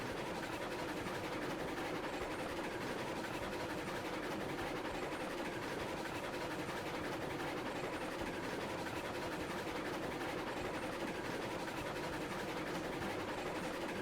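Heisler locomotive hauling a 22-car iron train in Railroads Online, rolling steadily at moderate speed with a continuous rumble and faint wheel clatter, close and unbroken for the whole stretch, no talking.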